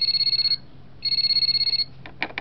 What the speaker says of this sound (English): Push the telephone and show me what it does.